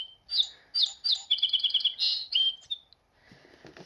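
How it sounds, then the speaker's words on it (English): A bird song book plays a recorded songbird: a bright, close run of rapid chirps and trills in quick bursts, ending in a softer, buzzy phrase. "I've been trying to teach my grandchildren about bird songs with this because it's got the sounds on it"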